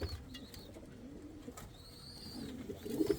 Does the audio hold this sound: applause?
no